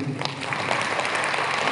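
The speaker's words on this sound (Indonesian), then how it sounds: "Tepuk tangan untuk semuanya." A room of participants at a scientific-writing training session in a hotel in Soreang, Bandung, breaks into brief, moderately loud applause, a short burst of many hands clapping.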